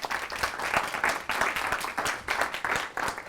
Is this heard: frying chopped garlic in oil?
no